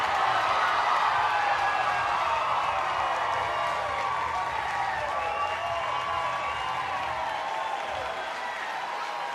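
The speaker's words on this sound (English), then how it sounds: "And listen to this crowd." A softball stadium crowd at an NCAA game roars and applauds after a catch, a loud dense wash of cheering and clapping that holds steady and eases slightly toward the end.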